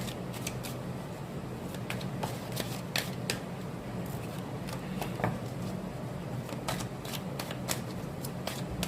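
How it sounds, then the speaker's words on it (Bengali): Tarot cards are shuffled in a quiet room, giving faint, irregular crisp riffles and taps that repeat through the clip, with no talking. "একটু সাফল করে নিয়ে 7টা কার্ড নিয়ে বলবো"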